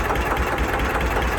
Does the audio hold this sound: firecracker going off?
no